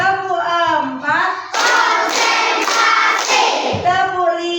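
A class of elementary school children claps in unison during a counting clap game, a dense flurry of sharp hand claps following a short chanted line from the group.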